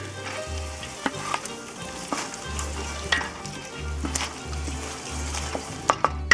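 Pasta sauce ingredients get stirred in a large pan, with repeated spoon knocks and scrapes over a steady frying sizzle and a low hum.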